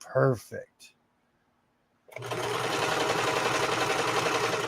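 A sewing machine runs a steady stitch line, a continuous close whirring buzz that starts after a short silence and keeps going, with someone speaking briefly before it begins.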